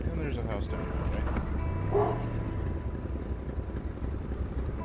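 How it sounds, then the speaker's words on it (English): A girlfriend's dog barks at people outside a snowy house, a few quick yips up close over steady low noise, with voices talking nearby. "that was Remy, my girlfriend's dog. Sometimes he sees people outside and he just wants to say hi"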